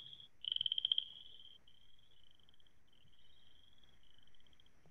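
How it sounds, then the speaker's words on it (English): Chorus frogs calling in a spring wetland along a greenway: a quick burst of rapid pulsed trills near the start, then softer, steady trilling that carries on faintly throughout, with no voices. "In the springtime, you'll hear things like these chorus frogs."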